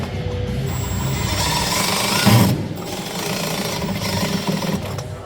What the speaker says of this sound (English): I'm using an impact drill, that's why it's making that funny noise.